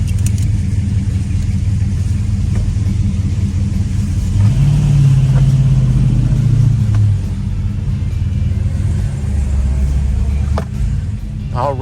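A Mopar Aero Warrior with a John Arusa stage 5 motor revs at Atlanta Motor Speedway, a loud, steady low rumble that swells briefly mid-way, with voices talking over it.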